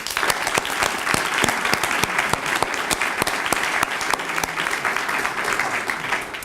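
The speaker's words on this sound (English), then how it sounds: "wonder if we could give them all another round of applause" A hall-wide round of applause greets Hall of Fame inductees at a 2012 ceremony, dense steady clapping from a sizable crowd with occasional sharper individual claps standing out, sustained throughout.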